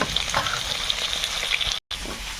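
Prawns frying in hot oil in a kitchen pan sizzle and crackle steadily at close range, with faint stirring scrapes and a brief dropout near the end.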